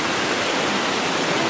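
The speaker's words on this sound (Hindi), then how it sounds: "सब पानी है वाटर फॉल से।" Water rushes steadily from a river waterfall, a loud, unbroken broadband roar with no pauses or voices.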